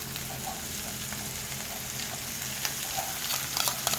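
Food frying in a pan for a budget meal gives a continuous, even sizzle with a low hum underneath and a few brief clicks toward the end.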